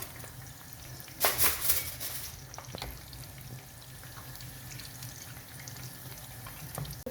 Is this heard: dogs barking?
no